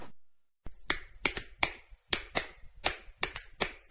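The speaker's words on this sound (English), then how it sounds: "What's the universal language of a fan? Clapping your hands." Sharp clapping from a Fan Hands sports fan accessory, about a dozen crisp, snappy claps in an uneven rhythm, close and loud with no voices.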